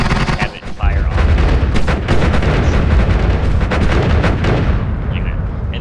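Rapid-fire multicast wand spells in the video game Noita, a dense, loud, continuous barrage of crackling shots and blasts running without pause for several seconds.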